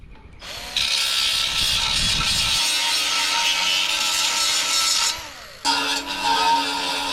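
A power sander working on plastic motorcycle parts outdoors during a 72V Razor MX650 electric dirt bike build, a loud steady high whine that runs for several seconds, stops briefly, then resumes.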